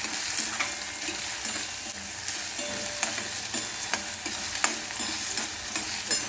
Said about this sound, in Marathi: कांदा टाकून घेऊया कांदाही चांगला कळसून घ्यायचा